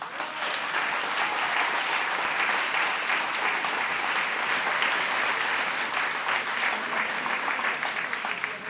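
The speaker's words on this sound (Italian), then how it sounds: "Je voudrais qu'on accueille avec un grand applaudissement il regista Nino" An audience at the Premio Mia Martini evening in Paris gives a long, loud, steady round of applause to welcome director Nino Romeo, dense clapping that runs without a break.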